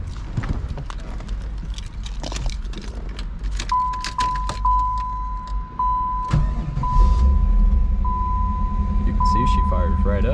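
A 1994 Chevrolet Camaro Z/28 V8 cranks and catches, then settles into a steady rumbling idle, loud and close inside the car, with a thin warning chime pinging repeatedly over the engine.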